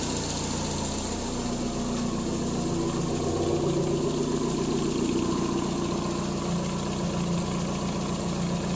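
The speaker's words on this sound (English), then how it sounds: "Let's go listen to the exhaust since I put that on yesterday." A Triumph Spitfire engine idles steadily on its freshly fitted exhaust, a continuous low rumble with a constant mid-range drone lasting throughout, fairly loud and close, with no talking.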